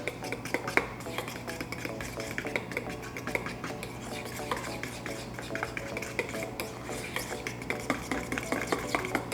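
Coconut butter and sweetener are stirred together in a bowl. A utensil scrapes and clinks against the bowl in a steady, continuous rhythm, close up, with no voices.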